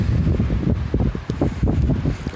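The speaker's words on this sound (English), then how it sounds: "Oh, the wind." Blizzard wind in Denver gusts against the microphone in snowy, slushy weather, a loud, fluttering rumble that rises and falls in quick bursts.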